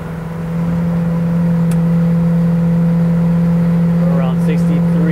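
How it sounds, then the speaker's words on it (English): A 1992 Winnebago Elante 37RQ motorhome cruises at highway speed, its engine and drivetrain droning loud and steady from inside the cab as the transmission shifts, with brief faint noises near the end. "Transmission shifts really well. Let's listen to it go in and out here."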